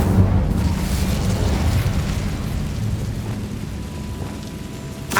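Incendio fire spell in Hogwarts Legacy: a loud, roaring burst of flame with rumbling low body, sustained for several seconds and fading slightly, ending with a sharp crackle.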